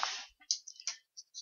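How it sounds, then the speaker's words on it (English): A few light keystrokes on a computer keyboard while entering values in Vectorworks, quick faint clicks spaced unevenly over a quiet background. "and press enter on keyboard."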